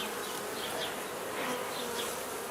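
Honey bees buzzing during a routine hive inspection, a dense continuous drone of many insects close by, steady and fairly loud throughout.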